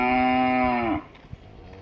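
In a cowshed housing 38 cattle, one cow gives a single long, loud, tonal moo lasting about a second, followed by quiet shed ambience with a faint knock.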